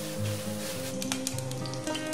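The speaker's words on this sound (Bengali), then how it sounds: "সর্ষেগুলো ভাজা হয়ে গেছে, এমনি চড়বড় করে যখন আওয়াজ হচ্ছে" Mustard seeds fry and crackle in hot mustard oil with dried red chillies for mango chutney, a continuous close sizzle dotted with sharp popping crackles, alongside a low steady hum.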